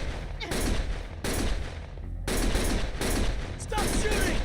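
Rapid bursts of gunfire from the video game Lost Judgment, several loud volleys in quick succession with short gaps, with voices shouting in between.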